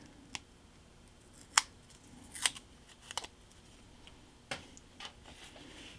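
A brand new hobby blade cutting out small paper signs for a model railroad scene, a handful of sharp, faint ticks and clicks spread irregularly over a quiet background, with no talking.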